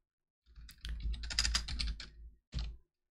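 Keys on a computer keyboard clatter as a curl command is typed into a Linux terminal: a close, rapid run of keystrokes lasting about two seconds, then a short final burst after a brief pause, with no talking.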